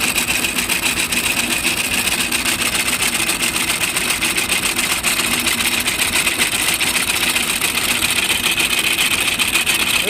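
A T-25 tractor runs a hay mower during haymaking, a steady loud mechanical clatter and engine drone holding without a break from start to finish.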